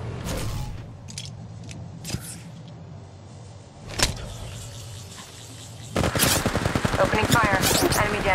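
Gunfire in the mobile battle-royale game Apex Legends Mobile: a few sharp isolated shots early on, then a sustained rapid burst of automatic fire near the end.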